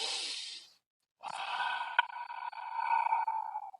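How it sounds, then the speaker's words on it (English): A person takes a sharp breath, then follows it with a long, forceful hissing exhale through the mouth, close up and alone. "you go into a breathing pattern that sounds something like this"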